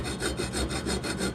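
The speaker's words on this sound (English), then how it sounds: "the way I'm going to take that out is just by sawing on the diagonal" Rhythmic back-and-forth sawing on a diagonal, cutting a flintlock rifle part, a quick run of short strokes close by with no talking.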